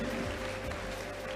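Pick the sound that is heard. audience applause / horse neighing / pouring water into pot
audience applause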